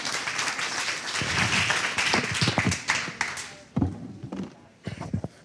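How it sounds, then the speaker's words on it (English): A conference audience applauds steadily for a few seconds, then the clapping thins out to scattered claps and taps. "let's please give Naveen a huge round of applause as he comes on up."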